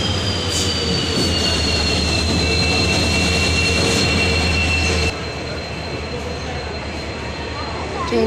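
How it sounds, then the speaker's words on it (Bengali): Train pulling into a station and slowing to a stop, loud low rumble of rolling wagons with squealing wheel whines, the engine drone dropping partway through as it settles, a few voices faintly beneath. "এই যে ট্রেন থামছে, এখনো থামছে না"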